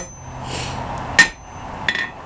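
Blacksmith's hammer striking a round steel bar to square it off while forging a leaf: two sharp, ringing blows about seven-tenths of a second apart, the first louder, over a faint steady background hum.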